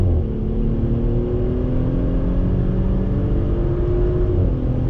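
A 2020 Audi SQ5 performance SUV accelerates on throttle, its engine note rising steadily as a smooth, continuous drone heard from inside the cabin with road noise beneath.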